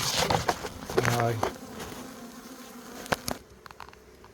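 Wasps buzz continuously around a beehive overrun by wax moth and wasps, a close, steady droning hum with a few faint knocks and rustles.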